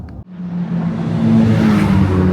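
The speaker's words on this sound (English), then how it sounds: "Here we are, Zena's AMG GTS. Beautiful. Running our stage 1 power package." Mercedes-AMG GT S with a stage 1 power package, engine starting with a sharp catch and then settling into a loud, rumbling idle that swells slightly, close by with no talk over it.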